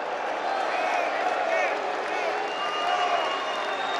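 A packed political rally crowd with thousands of people produces a continuous wash of cheering and scattered applause, steady and moderately loud, heard from within the venue.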